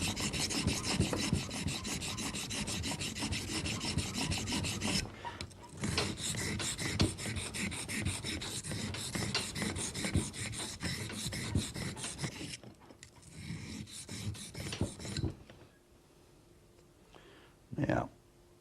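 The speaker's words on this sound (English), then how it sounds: "the first thing we're going to do is we're going to grind this knife" A knife blade being ground is heard as loud, continuous, close rasping and grinding in long passes, with brief breaks between them. The grinding fades to near quiet toward the end, and a voice seems to talk over it.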